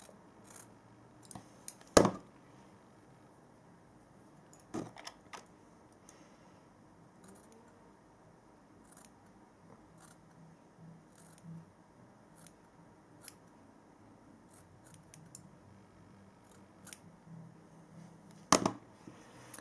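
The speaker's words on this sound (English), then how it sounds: "so I'm just gonna cut it like this." Scissors cut fringe hair close up, with crisp snips spread irregularly across the stretch, two loud sharp cuts near the start and end and fainter clicks between, in a quiet room with no talking.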